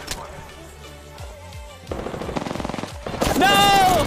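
Rapid Havoc machine gun fire in a shooter video game, loud bursts of fast rattling shots that build toward a dense, sustained volley, with a player shouting over the gunfire.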